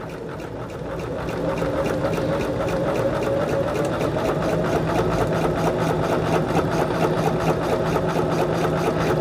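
A sewing machine runs steadily and close, stitching quilt block fabric along a sewing line for a diamond-pattern block, with an even continuous motor whir and no talk.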